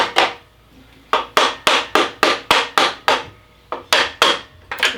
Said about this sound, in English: So I got my little bronze hammer.